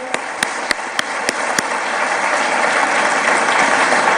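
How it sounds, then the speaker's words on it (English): A crowd's applause builds into steady clapping after a few sharp isolated claps, filling the room at a moderate distance. "Please give him a big round of applause for the Amit bhai."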